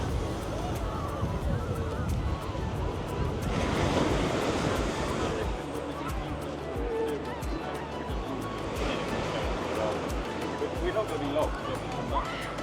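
Wind buffets the microphone while surf washes steadily along the busy beach at Bournemouth seafront, with a faint murmur of people in the background.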